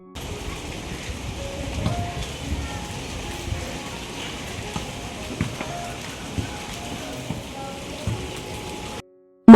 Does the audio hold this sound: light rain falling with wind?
yes